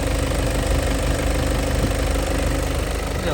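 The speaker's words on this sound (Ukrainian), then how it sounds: "Ось працює двигун" A Volkswagen Passat Alltrack's 140 kW engine idles steadily up close, a constant low mechanical chug with a faint rhythmic ticking and no change in pace.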